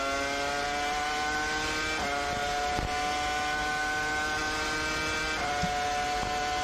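A BMW Williams FW26 Formula 1 car with a V10 engine screams past at high revs, a piercing harmonic wail holding steady with brief dips at gear changes, loud and continuous with no talking.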